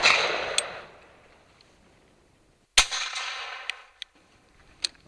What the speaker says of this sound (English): I had this duff cartridge which went pop instead of bang